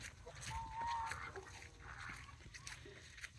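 Chickens kept in chicken tractors on brushy ground, with a soft squawking call mid-clip and a few faint clucks over low outdoor rumble and light background speech.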